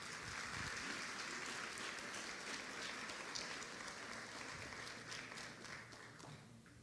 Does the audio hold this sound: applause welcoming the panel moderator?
yes